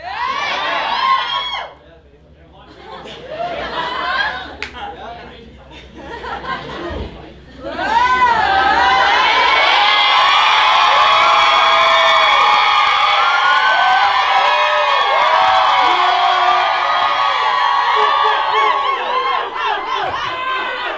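A crowd at the final of a 2016 dancehall battle in Singapore screams and cheers loudly, with bursts of shouting at first, then a sustained roar of excited voices that stays loud to the end.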